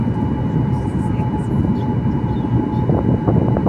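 A loud, steady engine roar with a whining tone dominates as a Serbia Airlines jet airliner taxis toward the runway, with faint indistinct voices underneath.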